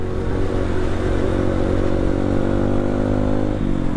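Motorcycle engine running steadily and loud at close range as the rider sets off, a continuous rumbling drone with a slight pitch shift near the end and no talk over it.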